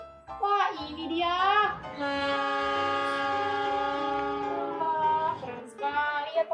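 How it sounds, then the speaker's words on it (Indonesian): A toy CC 206 locomotive running along its track lets out a loud, sustained electronic horn-like tone, with shorter warbling bursts at the start and end. "Wah, keren sekali ya teman-teman, keretanya melaju dengan begitu cepat."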